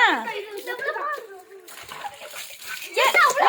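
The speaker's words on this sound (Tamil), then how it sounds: "தண்ணி சண்டை" Water splashes and sloshes as children throw it at each other in a playful water fight, mixed with excited kids' voices that rise loudly again near the end.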